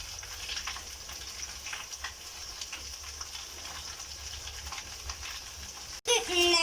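Chopped ash gourd and cucumber pieces drop into a hot pan for Onam avial, setting off a steady loud sizzle and frying hiss that continues throughout, ending in a sudden burst of louder crackling.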